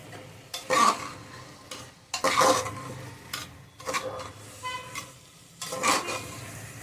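Yam curry stirred in a pan after jaggery is added, several distinct scraping stirs in bursts over a light sizzle, close and without talk.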